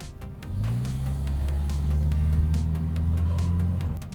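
An Opel Vectra A with an automatic gearbox is on the move, its engine giving a steady low droning hum with a rising tone, heard from inside the car with no talk.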